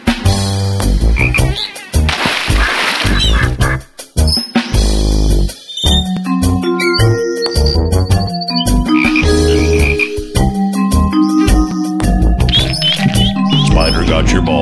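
Cartoon frog croaks from the 3D Ultra Minigolf Deluxe video game, loud and repeated amid busy game music, chimes and effects throughout.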